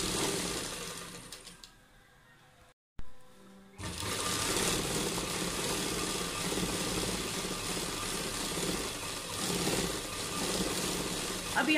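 A sewing machine runs steadily, stitching lace along the edge of a dupatta, with a brief pause near the start before the continuous motor whir resumes for most of the clip.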